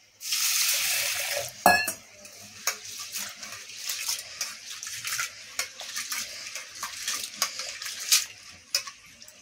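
Masoor dal lentils are swished and rinsed in water by hand, giving close sloshing and trickling with scattered splashes and clinks.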